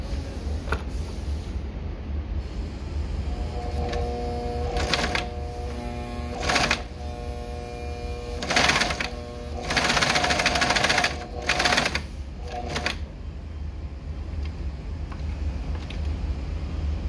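A Consew sewing machine runs in several short bursts of rapid mechanical stitching, making big stitches, with a constant motor hum and pauses between runs.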